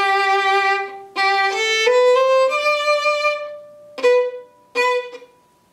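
Violin played with heavy, big staccato bow strokes, each note cut off by a sudden stop; several separate bowed notes ring out alone, loud and close, with short silences between strokes.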